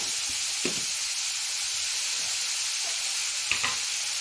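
Amla (Indian gooseberry) frying in oil for fried rice, a steady broadband sizzle close by with a couple of brief stirring clinks and scrapes, no talking.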